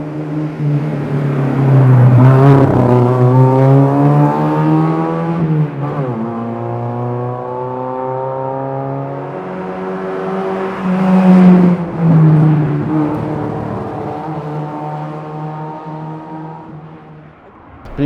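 A car driven on a race track, its engine loud and close, revving up through gears with rising and falling pitch, easing off midway and then climbing again before settling.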